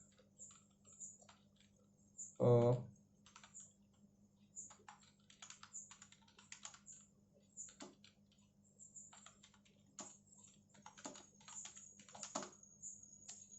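Computer keyboard typing as a question is entered into Google Forms: a short, louder burst of keystrokes near the start, then scattered light, irregular key clicks over a steady low hum.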